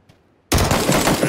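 A loud, close burst of automatic rifle fire in PUBG, with the weapon still set to burst mode, rapid cracking shots after a moment of near-silence.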